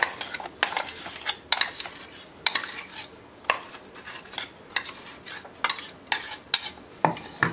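Ground mixed namkeen powder tipped from a grinder jar into a bowl, heard as a string of sharp metal-on-metal scrapes and clinks from a spoon against steel, spaced every half second to a second, close and clear with no voices.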